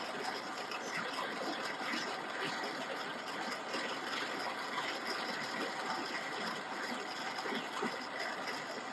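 A metal lathe turning an aluminum pen blank with light cuts, producing a steady, faint whirring hum with fine cutting hiss and no breaks.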